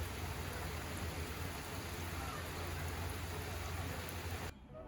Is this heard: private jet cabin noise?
no